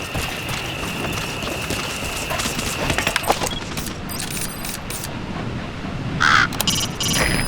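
Ravens caw a few times over steady ambient wind and environmental noise in the game Metal Gear Solid V: The Phantom Pain, with short bursts of calls standing out midway and near the end.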